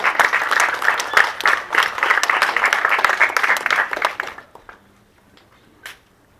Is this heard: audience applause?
yes